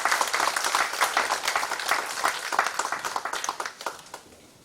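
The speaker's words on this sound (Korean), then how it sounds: "정무성 총장님 소개할 때 여러분 박수로 환영해 주시기 바랍니다" An audience at a church forum on low birth rates applauds to welcome a university president, with dense steady clapping that thins out and fades over several seconds.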